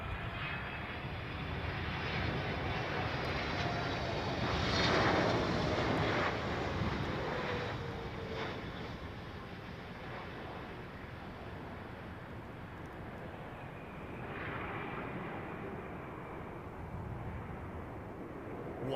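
Airliners arriving on runway 09L at London Heathrow produce a steady, loud jet roar throughout, swelling and fading gently as aircraft pass, with some wind rumble.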